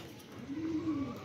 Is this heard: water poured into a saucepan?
no